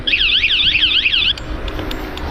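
An electronic scooter-style horn on a bike or e-scooter beeps in a fast rising-and-falling warbling chirp pattern for over a second, then cuts off, leaving faint background noise.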